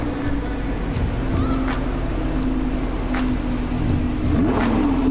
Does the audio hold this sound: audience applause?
no